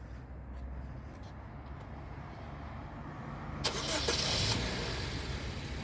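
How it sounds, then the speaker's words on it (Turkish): A 2021 Honda Civic's engine, started by remote, cranks and catches partway through, its rumble rising over a steady low idle-like hum, fairly close with no voices. "Sesi duyduk. Aracımız çalıştı."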